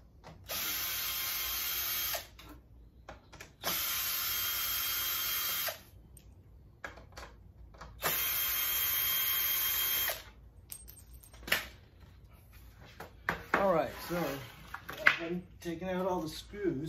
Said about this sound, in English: Taking out all the screws,